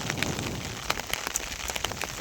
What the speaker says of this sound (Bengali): দেখুন যে কী পরিমাণ বৃষ্টি হচ্ছে আজকে।